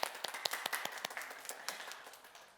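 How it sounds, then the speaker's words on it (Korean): A children's church congregation claps in praise to God during Sunday worship, with distinct, rhythmic hand claps that sound moderately close and soft and gradually thin out. "네, 우리 하나님께 큰 영광의 박수를 돌려볼까요?"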